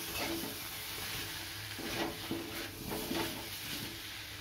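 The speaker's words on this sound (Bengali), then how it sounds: "সোয়াবিন দিয়ে দিলাম। এবার একটু কষিয়ে নেব।" Soybean chunks sauté in a pan with tomato sauce and garam masala, giving a quiet, steady sizzle with soft scraping and stirring taps at intervals.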